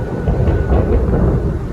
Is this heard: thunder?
yes